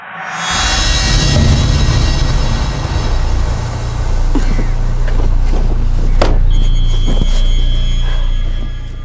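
A car engine rumbles loud and close with heavy low-end drone, settling down toward a stop, with brief rattles and clicks over the idling motor; no talk.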